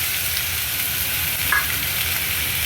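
Cabbage curry fries in a pan with a steady close sizzle as prepared spice masala is added, a continuous crackling hiss with no voices.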